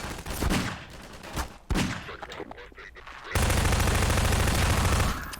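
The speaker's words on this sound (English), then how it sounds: "So a little bit of gunplay here." Rapid gunfire bursts in a Half-Life custom level during a Combine attack, loud and dense with sharp repeated shots, shifting into a sustained heavy roar of continuous firing toward the end.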